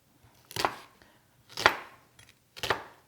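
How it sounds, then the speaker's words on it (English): Three sharp knife chops through onions on a cutting board in a home kitchen while making mushroom risotto, spaced about a second apart, close and clear with quiet pauses between. "we are going to start chopping"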